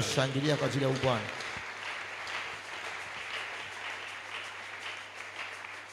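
Church congregation applauding, a broad steady wash of clapping that follows a brief stretch of speech and continues evenly at moderate loudness with a low hum underneath.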